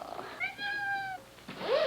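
A cat meows twice in a quiet indoor room, first a long drawn-out meow and then a shorter rising one after a brief pause, each heard clearly and close by.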